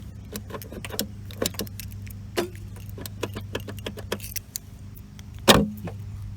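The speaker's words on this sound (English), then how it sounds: "you can hear the lock in there going off" Fuel door lock actuator clicking on a 2010 Volkswagen Jetta SportWagen 2.5 SE, a series of close, sharp mechanical ticks and clacks over a low idle hum, ending in one louder clunk.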